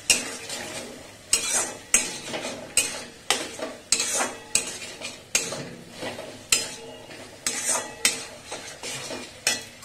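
A cornflour mixture is stirred in a pan with a metal utensil, making a regular series of scraping, clinking strokes about once a second, close and fairly loud, with a faint sizzle underneath.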